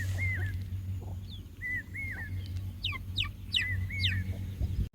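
Hens and young chicks cluck and peep close by on a rural farm, repeated short chirps and clucks scattered across several seconds over a steady low background hum, with no talking.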